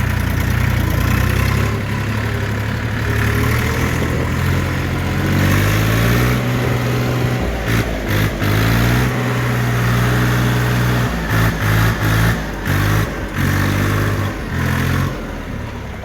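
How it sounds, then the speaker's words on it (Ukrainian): A Skaut TY 254 mini tractor's four-stroke engine chugs steadily and loudly up close, its rhythmic thrum holding throughout with occasional sharp clatters and shifts in pitch. "дуже гарний чотирьохтактний двигун, справно працює"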